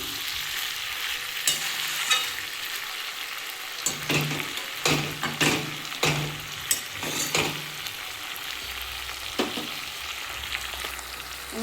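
Flat beans and potatoes cooking down in a pan, a continuous frying hiss broken by a series of spatula scrapes and knocks as the curry is stirred, close and fairly loud, no talking.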